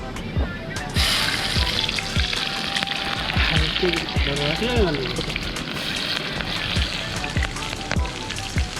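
Paneer and onion fry in a pan with a steady, close sizzle and scattered crackles and pops throughout, while a voice speaks briefly over it.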